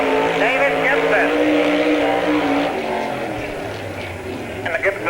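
David Gibson's Gibson Racing G1 dirt race car laps a speedway, its engine a loud, rising and falling roar that fades toward the end, with an announcer talking over it.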